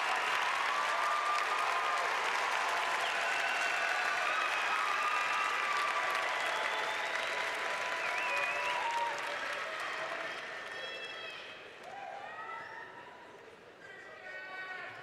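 A large crowd at a university commencement ceremony applauds, a broad sustained roar of clapping with cheering and whoops, fading somewhat toward the end, while voices carry through the noise.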